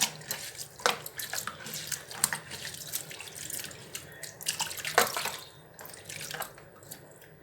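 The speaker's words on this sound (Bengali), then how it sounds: "ব্রাহ্মী শাকগুলো গামলা করে জলে ভালো করে ধুয়ে নেব" Brahmi greens being washed by hand in a basin of water, with steady sloshing and splashing plus scattered drips, close and fairly loud, no voices.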